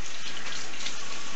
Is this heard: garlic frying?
no